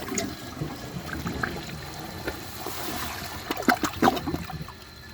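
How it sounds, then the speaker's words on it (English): Water splashing and trickling into a 2012 Glacier Bay all-in-one toilet bowl, a gurgling pour that grows louder toward the end before settling. "let's add a little more water to the bowl"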